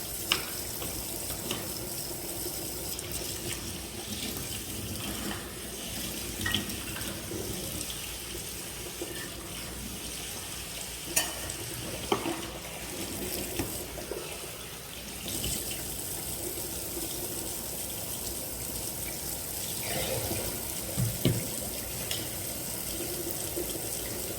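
Measured rice is put to soak for shrimp fried rice as water runs and splashes steadily into a bowl at a sink, a constant close rush with small clinks and sloshes.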